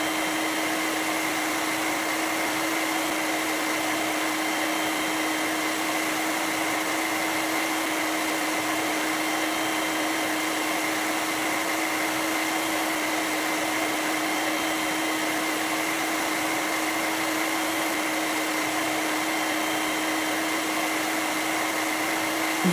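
An electric hand beater whips batter for Malabar foam pathiri (nura pathiri), giving a steady, continuous motor whine with a sharp hum that holds even and loud from start to finish, with no voices.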